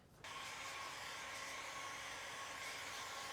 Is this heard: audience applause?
no